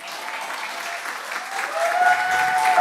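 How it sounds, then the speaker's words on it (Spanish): Applause from a congregation at a Sunday church service, a full, steady wash of clapping that swells slightly toward the end, with a faint whistle or tone rising through it. "ese aplauso es para Dios"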